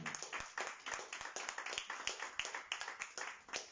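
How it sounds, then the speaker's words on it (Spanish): A church congregation clapping together in steady, rapid rhythm, a dense patter of many hands heard from a moderate distance and sustained throughout. "Dale un aplauso al Señor esta mañana."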